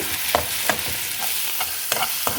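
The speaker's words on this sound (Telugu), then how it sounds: "ఇదిగోండి ఉల్లిపాయలు 3 ఉల్లిపాయలు కోసి వేయించుకున్నానండి." Three chopped onions frying in a pan for prawn and tomato curry, a soft steady sizzle broken by several sharp clacks of a spoon stirring against the pan, with no talking.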